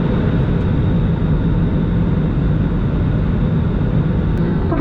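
Steady, loud low rumble and hiss inside a Batik Air airliner cabin after landing, the engine and air noise droning on evenly without speech.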